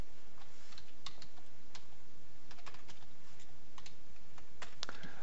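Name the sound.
typing on a computer keyboard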